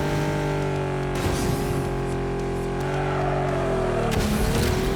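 A race car drifts in the arcade racing game Ace Racer, with a loud, steady engine drone and tire squeal rising and bending through the slide, and no voices.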